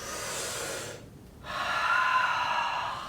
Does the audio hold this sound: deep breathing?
yes